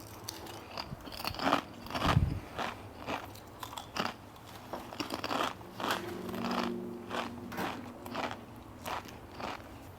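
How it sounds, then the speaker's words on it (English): Crunchy chips are eaten between sets of a leg workout at the gym, with close, loud bites and repeated crackling chews in an irregular rhythm over a quiet background, with no talking. "I think I told you guys about these chips because I knew I was going to be snacking on them during the workout."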